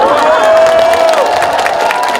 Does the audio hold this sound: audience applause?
yes